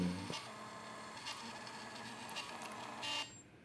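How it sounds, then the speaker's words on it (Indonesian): An inkjet-style printer runs a self-test page, giving a steady mechanical whirring and buzzing of the print head for about three seconds, with a brief louder burst near the start and a stop at the end. "Nah, printer akan mencetak seperti ini."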